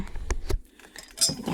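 Small metal furniture bolts clink and jingle in a few sharp, close taps while being handled, with quiet gaps between them.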